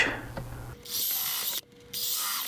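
A power drill pre-drills holes in a board during an RV inverter install in a travel trailer, whirring in two short bursts split by a brief stop, close and fairly loud.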